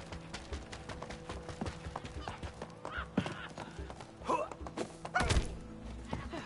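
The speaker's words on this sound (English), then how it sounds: "Wow, strong horse." A horse gallops in the video game It Takes Two, its hooves beating a quick, uneven clip-clop over thumps and soft game ambience, with a louder burst of hoofbeats near the end.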